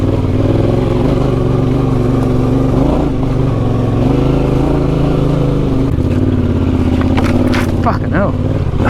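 Motorcycle ridden slowly along a slippery red clay track while wild camping in the bush, its engine a steady loud drone throughout with a shift in pitch near the end; a voice talks over the engine.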